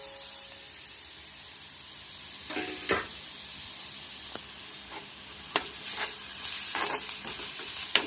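Grated carrot fries in a hot pan with a soft, constant sizzle, broken by several louder scrapes and stirs in the second half, heard up close without talk.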